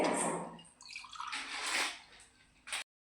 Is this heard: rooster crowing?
no